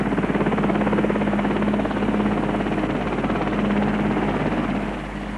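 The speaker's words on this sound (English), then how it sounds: "The helicopter is now 200 feet up over the chapel." A helicopter hovers about 200 feet above a chapel while lowering a new spire in 1969, its steady rotor thrum and engine drone loud and constant, easing slightly at the end.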